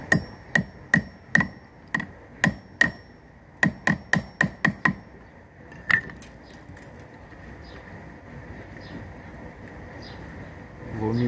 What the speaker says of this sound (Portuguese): Bater um prego aqui na pontinha dele.